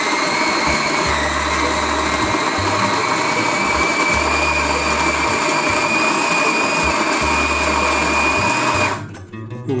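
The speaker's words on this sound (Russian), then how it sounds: "Включаем кофемолку." A Kitfort KT-744 conical burr coffee grinder whirs loudly and steadily as it grinds beans, a high motor whine with a crunching undertone, running for several seconds before cutting off near the end.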